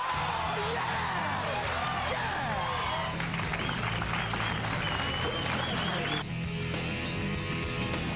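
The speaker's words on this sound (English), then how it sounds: "And the crowd is into it because that man is bowling." A crowd at the 2009 PBA World Championship bowling event claps and cheers steadily, a dense wash of applause with whoops and scattered voices throughout.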